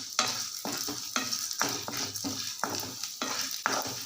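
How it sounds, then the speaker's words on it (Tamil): Chana dal frying in hot oil for a chicken kola urundai, with a steady crackling sizzle broken by regular scrapes and clacks of a spoon stirring through the pan, close and fairly loud, with no voices. "கடலைப்பருப்பை கருக விட்டுறாமல் எண்ணெயில் நல்லா வறுத்து எடுத்துக்கோங்க."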